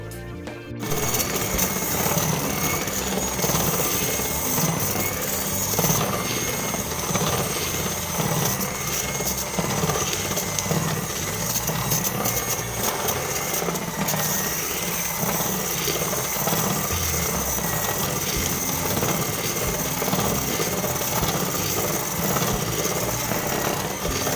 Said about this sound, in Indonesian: Lalu aku mixer lagi semua bahan adonan bolu kukus coklatos wijen sampai tercampur rata.